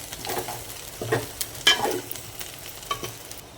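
Steamed kozhukattai dumplings being tossed and stirred into roasted coconut in a pan, with soft scraping strokes and scattered spoon clinks against a faint, low background sizzle.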